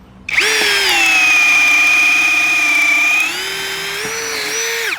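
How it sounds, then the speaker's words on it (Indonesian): An XAPR AP34 Pro cordless brushless drill bores into 10 cm thick wood, a loud, steady high whine holding for about three seconds, then dropping slightly in pitch before cutting off abruptly. "pengeboran ke kayu setebal 10 cm ya. Ini kita langsung gas saja bor."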